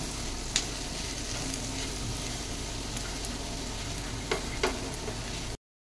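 Boiled potatoes are stirred into a sizzling pan mixture, with steady close frying hiss and a few soft knocks and scrapes of a spoon, no voices.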